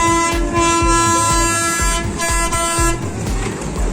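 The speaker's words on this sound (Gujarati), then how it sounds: "અહીંયા આપણે દેશી રેલગાડી હાલી રહી છે" A small desi toy train runs at the Anand fair in Bhavnagar, its sustained whistle-like tones sounding loudly over a rhythmic, repeating clatter that keeps pulsing close by.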